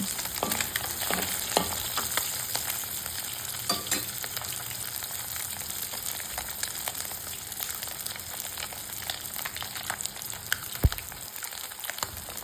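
Whole fish sizzles and crackles steadily while deep-frying crispy in hot oil, with scattered pops over a constant frying hiss.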